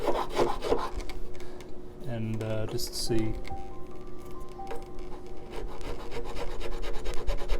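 Wood on a repaired guitar headstock is sanded by hand in close, scratchy rubbing strokes that come in bursts, while a person speaks briefly partway through.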